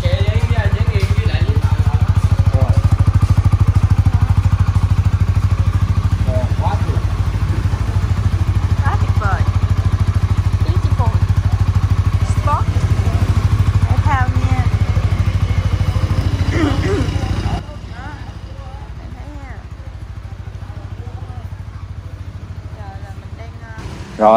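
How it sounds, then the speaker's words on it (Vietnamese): A Honda CBR 150R motorcycle's exhaust idles loud and close with a steady, throbbing engine note, light clatter and background voices mixed in, before the level drops noticeably for the final stretch. "Đây, nghe tiếng bô nha các bạn."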